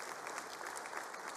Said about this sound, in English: I want us to give them a very big hand of applause